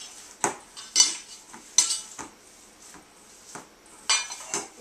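Seasoned ground beef being mixed by hand in a bowl for pimento cheese burgers, with a series of distinct clinks and scrapes against the bowl spaced irregularly, close and fairly quiet, with no talking.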